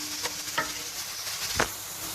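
Spinach sizzles over medium heat in a pan for the Greek spinach pie, with a soft steady hiss and a few brief stirring scrapes. No one speaks.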